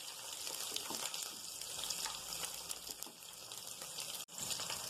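Green chillies with crushed ginger and garlic sizzle in a pan, a steady close hiss and crackle that continues without pause and with no talking.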